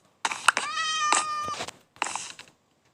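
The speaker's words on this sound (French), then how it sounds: "Il y a des chats aussi." Cat meowing in the Minecraft video game, one drawn-out tonal meow followed by a shorter second call, close and clear with no talk over it.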